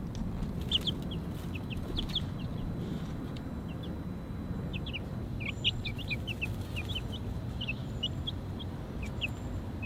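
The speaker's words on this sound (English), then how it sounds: "Chickens in the coop right now. Having a wonderful time." Baby chickens clucking and peeping in their new coop on a hot day, many short high chirps scattered steadily over a low, constant background rumble, fairly close.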